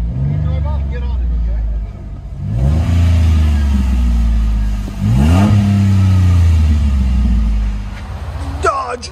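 A 2007 Dodge Nitro with a 4.0L V6 and a Black Widow Race Venom exhaust revs hard in repeated bursts, its deep exhaust note rising and falling up close, with a brief rattle at the end.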